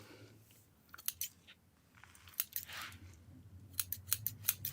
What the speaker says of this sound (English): I'm the one with the scissors in my hand.